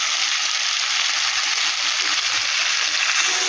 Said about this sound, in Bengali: এবার আমি এখানে জলটা দিয়ে দেবো।